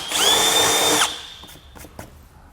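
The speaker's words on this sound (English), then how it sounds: "take a 5/16 drill bit and we'll cut out a hole" Power drill with a 5/16 drill bit boring a hole while installing air helper springs on a 2023 vehicle, one loud high-pitched whine lasting about a second, then spinning down, followed by faint clicks and handling sounds.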